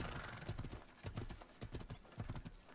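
Horse hooves clip-clop in Assassin's Creed Odyssey, a steady run of paired hoof strikes at a trotting rhythm, fairly close, with a faint hint of a whinny.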